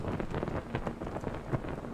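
Steady patter of rain in the video game Morrowind, a dense soft hiss with scattered drops, moderately quiet and continuous.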